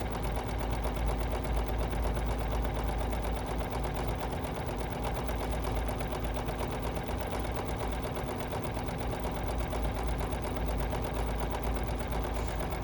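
A BERNINA sewing machine stitches multi-directionally, turned to 90 degrees for satin stitch surface embellishment, giving a steady, continuous mechanical whir and rapid needle patter throughout, close and even in level.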